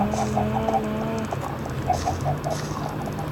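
Chickens in the Minecraft PE video game cluck in short, repeated bursts over faint background noise.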